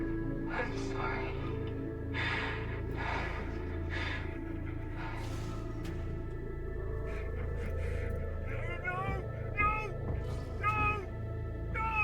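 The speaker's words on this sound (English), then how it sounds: "Cat." Several cat meows in the video game Deliver Us Mars, some drawn out and wavering, the clearest coming in a short run near the end over a low ambient rumble, with voices talking.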